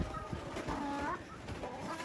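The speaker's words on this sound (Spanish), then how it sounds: "Ese gallo mugroso." Chickens and a rooster cluck on a ranch, close and fairly loud, with a steady stream of short clucks and squawks over a busy farmyard background.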